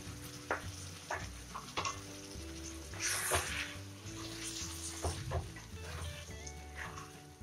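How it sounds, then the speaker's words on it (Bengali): Ground poppy seed paste blended with green chilli added to vegetables frying in a kadai, with steady sizzling and scattered scraping knocks of stirring, fairly close and moderately quiet. "এবার আমি বেটে রাখা পোস্তটা কড়াইয়ের মধ্যে দিয়ে দেব।"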